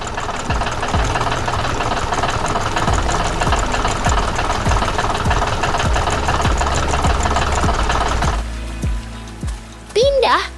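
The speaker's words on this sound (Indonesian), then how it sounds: "Traktor merah berlari dengan cepat di tengah pertanian yang hidup." A red farm tractor engine runs steadily with a dense mid-range rumble, loud and close, with repeated knocking pulses, before cutting to quieter ambience near the end.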